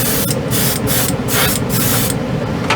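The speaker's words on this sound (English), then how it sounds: "The airbrush, this Evolution atomizes the paint really nice." An Evolution airbrush blasts a heavy coat of AOK Silveroaks paint, a loud, close hiss with rhythmic surges as the spray sweeps back and forth.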